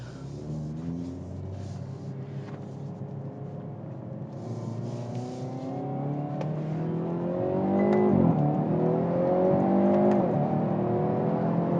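Hyundai Veloster N with an 8-speed wet double-clutch transmission accelerating hard from inside, engine note rising through quick, crisp gear changes, the revs climbing louder toward the end with no talk.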